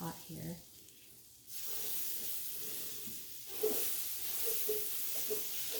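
Butter melts in a pot for a gluten-free sea salt and caramel matcha rice krispie treat, giving off a soft, steady sizzling hiss that starts abruptly and swells midway, with faint murmuring near the start.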